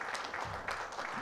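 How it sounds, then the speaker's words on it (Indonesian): Audience at a creative discussion event in Batu applauds briefly, a short burst of steady crowd clapping at moderate level. "Tepuk tangan dong."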